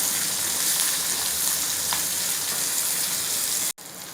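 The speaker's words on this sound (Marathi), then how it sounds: "आता कांदा घालूया आपण कांद्याला पण एक मिनिट परतून घेऊया" Onions fry in a pan for soya chilli, giving off a steady, dense sizzle that stays loud and close for several seconds before cutting off abruptly near the end, with no voices.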